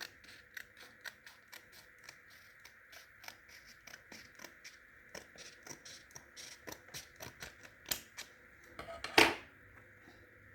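Scissors snipping a small strip off paper, a quick series of short crisp cuts close by, building to one louder snap near the end, with no talking.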